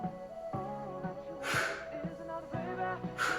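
Two sharp, breathy exhalations about two seconds apart rise loudly over steady rhythmic music during a home HIIT workout.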